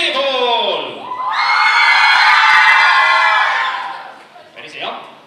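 Large audience of children at a youth talent show shouting and cheering loudly together in a shouting contest, a sustained roar of many young voices swelling for a few seconds, then fading, with a voice talking at the start and end.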